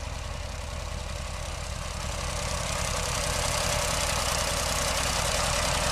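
John Deere two-cylinder tractor engine running with a pull-type John Deere 37 sickle bar hay mower, a steady, close, loud low throb with a continuous mechanical rumble and no voices.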